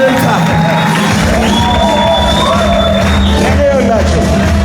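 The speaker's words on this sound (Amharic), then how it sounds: "ለጌታ እልልታ።" A church congregation ululating in praise of the Lord, loud sustained high trilling and shouting from many voices at once, close and continuous.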